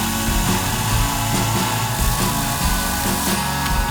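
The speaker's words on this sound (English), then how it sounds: "Hank's 40-volt chainsaw with gas-like power and automatic oiling system gets those heavy jobs done easy." A Henx 40-volt cordless chainsaw with automatic oiling runs at steady high power while cutting, giving a loud, continuous buzzing whine with no pauses.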